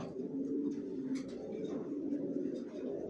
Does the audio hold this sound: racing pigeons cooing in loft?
yes